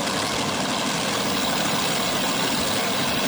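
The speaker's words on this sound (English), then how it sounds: "RPMs come up, they hit the loud pedal, and off they go." At a drag race at Beech Bend Raceway Park during the Hot Rod Reunion, cars launch off the line. A dense, continuous, loud engine roar fills the whole stretch, with no distinct individual revs.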